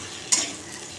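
Onion stalks, beans and peas fry in a pan, a brief close hiss with a quick stirring scrape standing out over the steady sizzle.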